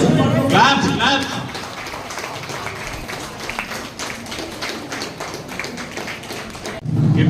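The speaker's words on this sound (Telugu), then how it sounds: "claps claps" Audience at a women's day celebration of a Vasavi Vanitha club clapping steadily through the room, a dense continuous patter of many hands with a few louder bursts, voices murmuring underneath.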